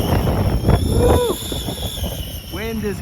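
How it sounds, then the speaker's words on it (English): Gusty wind of up to 25 mph roars and buffets the microphone throughout during an RC helicopter flight, with a few bursts of voice and a brief whoop partway through. "Wind is killing it."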